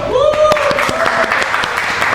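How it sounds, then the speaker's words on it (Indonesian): A studio audience claps and cheers in a dense burst of applause, with a voice briefly calling out over it. "boleh tepuk tangan dulu dong yang ada di studio"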